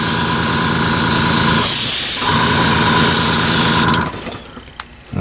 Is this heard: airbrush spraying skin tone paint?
yes